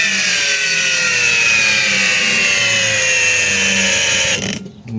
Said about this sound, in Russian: Давай теперь покажи, как это происходит на болгарке.